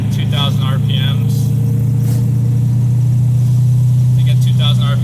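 A 2013 Scion FR-S with a swapped V8 LS3 engine cruises on the highway in sixth gear below 2,000 rpm, a deep steady engine drone with road rumble, heard from inside the cabin.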